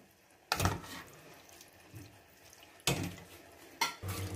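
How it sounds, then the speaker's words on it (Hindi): Water poured into keema in a cooking pot, with splashing, stirring and pot clatter in a few distinct bursts, close and fairly loud, and no talk. "और ऐड कर देंगे पानी इसमें ताकि कीमा जो है वो थोड़ा सा गल जाए।"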